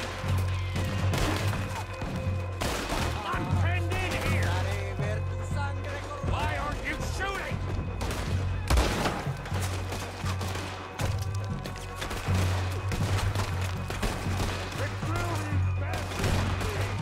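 Gunfire in the video game Red Dead Redemption 2, dense repeated shots and impacts over a constant low game soundtrack, with a voice talking throughout.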